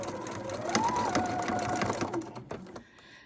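A sewing machine runs a short seam across a quilt block, a fast close mechanical whir lasting a few seconds before it slows and stops, with soft talk faintly underneath.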